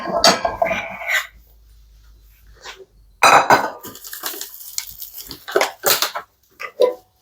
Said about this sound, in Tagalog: So we need to put it in the plate.